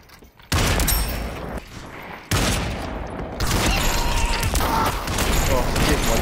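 Dense automatic gunfire in the VR shooter Population One, loud, close and nearly continuous bursts, with players talking over it.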